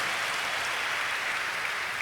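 Applause from an audience at a memorial gathering for Pastor Kim Joon-gon, a smooth, continuous hiss of many hands clapping at moderate, even volume for a couple of seconds with no talk.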